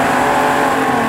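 Ferrari 250 GT sliding sideways in a racing video game, its engine a steady, dense roar with a faint hint of tire scrub, loud and continuous for about a second with no talk.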